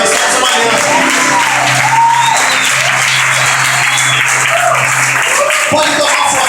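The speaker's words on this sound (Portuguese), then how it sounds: "Quem pode aplaudir Jesus?" A church congregation claps and cheers loudly in a dense, continuous wave of applause, with whoops and voices mixed in and a sustained musical tone humming beneath.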